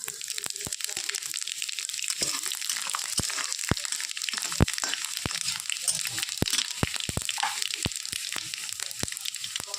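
A bay leaf, two dried chillies and panch phoron hit hot oil for a vegetarian moong dal, giving a steady close sizzle scattered with sharp crackling pops throughout.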